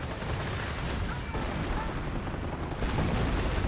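Sector artillery barrage in the game Company of Heroes, a dense rumbling roll of explosions and booms with overlapping blasts, continuous and loud throughout.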